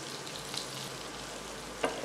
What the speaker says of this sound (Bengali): এবার একসঙ্গে সব কিছু মিশিয়ে হালকা বাদামি করে ভেজে নেব